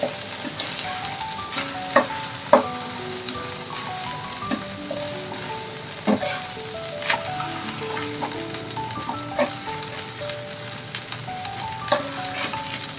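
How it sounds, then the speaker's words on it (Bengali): Leftover flatbread fries in a pan with a little water added, giving a steady soft sizzle broken by scattered clinks and scrapes of stirring, close and with no talking. "এবার এটা ভাজাও হবে আর নরমও হবে।"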